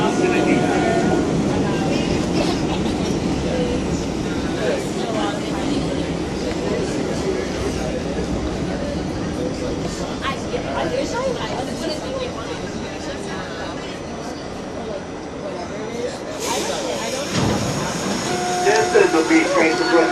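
A New York IRT Line 6 subway train riding between Brooklyn Bridge–City Hall and Bleecker Street, a loud continuous rumble and roar of wheels heard from inside the car, with a brief screech near the end.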